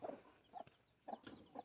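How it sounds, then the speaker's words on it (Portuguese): A hen with her chicks clucking in short, soft bursts spaced about half a second apart, close by, with faint higher peeps between them. "Aí vou soltar a galinha aqui agora."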